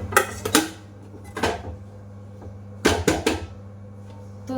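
Semolina toast biscuits are lifted onto a plate with a few sharp clinks and scrapes, in two short clusters with quiet gaps between them, against a steady low hum.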